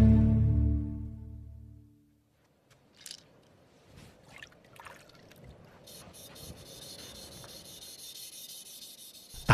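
Abalone shell being ground and polished to strip the outer horny layer and expose the iridescent nacre: soft, close rasping rubs in short irregular strokes, following a fading musical passage and a brief silence.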